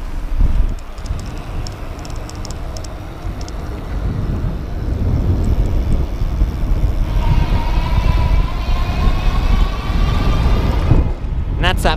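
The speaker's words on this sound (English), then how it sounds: "And that's that full power on the throttle." Magnum Peak 29 e-bike motor at full throttle, a continuous loud whine that rises in pitch as it speeds up, layered over heavy wind rush.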